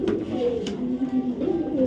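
A light-coloured maxi racer pigeon, a young 2023 bird, coos close by in a few soft, throaty rolling phrases, with nothing else around it.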